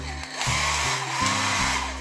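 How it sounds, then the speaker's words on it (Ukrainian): A hair dryer runs steadily in a hotel bathroom with a loud whooshing blow and a low motor hum whose pitch shifts a few times. "є також фен, воно вже робочий"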